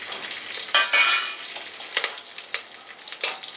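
Curry leaves and dried red chillies hit hot oil for a bottle gourd and tomato curry, giving a busy crackling sizzle with sharp spits and pops throughout, close and fairly loud, with no voices.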